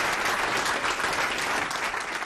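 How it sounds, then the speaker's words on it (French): Thunderous applause from a crowd filling a multipurpose hall as the presidential couple enters, dense and steady throughout with no break. "C'est un tonnerre d'applaudissements qu'a reçu le couple présidentiel samedi lors de son entrée dans cette salle"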